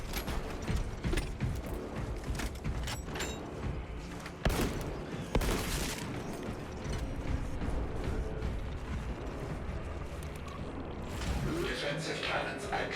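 Defensive cannons firing in World of Warcraft, dense mechanical clanking and ratcheting with repeated sharp bursts, mixed with game effects and a voice speaking throughout.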